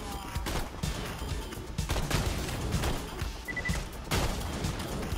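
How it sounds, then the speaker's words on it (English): Rapid, dense gunfire from Borderlands 2 combat, including shotgun blasts, fills the whole stretch with loud overlapping bursts and crashes, with no clear gaps between shots. "I'm gonna shoot your head off with a shotgun"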